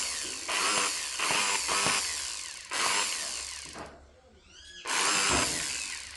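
A Buildskill electric drill machine whirs in bursts of a few seconds each, starting and stopping with a dip between, loud and close with a high motor whine.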